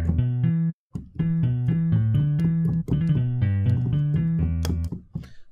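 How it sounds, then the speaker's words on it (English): Sampled acoustic guitar from the Indie Fingers instrument, low bass strings picked in a steady melodic run of clear, ringing notes with a brief pause near the start, close and dry, without any speech. "it's just the bass strings of the guitar, or the first strings of the guitar"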